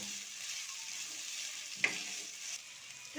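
Grated raw turmeric fries in mustard oil in a pan, a steady soft sizzle with one sharp scrape of stirring partway through.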